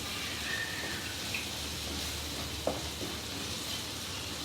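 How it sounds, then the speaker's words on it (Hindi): Finely chopped tomatoes and dry masala fry in a hot pan for a tinda curry while being stirred continuously, giving a steady, even sizzle with a few faint scrapes and pops throughout. "और ये टमाटर बारीक बारीक काट लिए हैं। इसको डाल के लगभग 1 मिनट में लगातार चलाते हुए भूनना है।"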